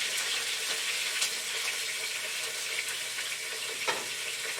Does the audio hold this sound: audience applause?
no